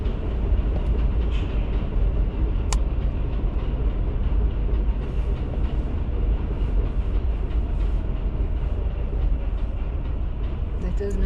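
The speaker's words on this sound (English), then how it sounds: "There goes a 7 train." A New York City 7 subway train passes along an elevated line in Queens, heard as a steady, loud rumble with a rattling wagon clatter. It is caught from a car driving toward Jackson Heights, and the rush continues throughout over road noise.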